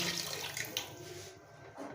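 Water pours into a pot of mutton for yakhni pulao, a steady broadband splashing and gushing that fills the two seconds and eases slightly toward the end, close by with no talk.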